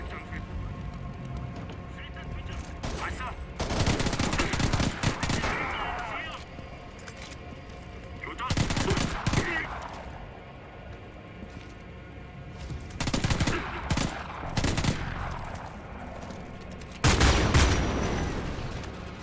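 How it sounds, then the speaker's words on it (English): Bursts of rifle fire in the video game Homefront: The Revolution, several loud volleys of shots spread out at intervals, with someone talking between and over them. "Now that's a rifle that has a bit of a kick to it, but still not uncontrollable yet."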